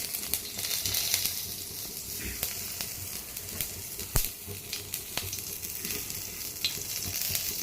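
Curry leaves and asafoetida sizzle and crackle in hot oil for a tondakaya (ivy gourd) chutney, a dense steady frying hiss with scattered sharp pops throughout.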